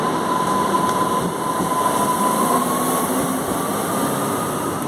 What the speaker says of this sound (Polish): O, proszę bardzo, odjeżdża pociąg.